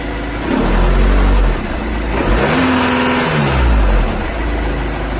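A VW CFFB diesel engine revving under acceleration, with rising and falling engine pitch over a steady idle, loud and close, alone without talk.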